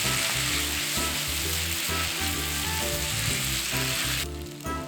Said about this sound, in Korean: 골고루 섞은 잡채를 한번 볶아주세요